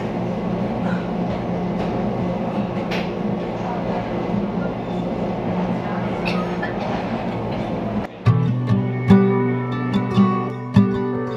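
A Swiss train rumbles along with a steady roar for most of the ride, then the sound shifts near the end into sharper metallic clatter and tonal wheel or brake squeals, all heard close from inside the carriage.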